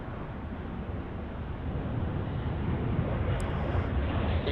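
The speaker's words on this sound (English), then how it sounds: "So that one there was Delta Flight 3815 off to Boise." Delta Flight 3815 airliner departing LAX for Boise, a broad steady jet roar that swells slightly louder over the seconds, with wind noise on the microphone.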